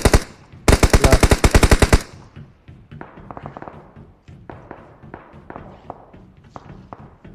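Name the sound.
gunfire in video game PUBG Mobile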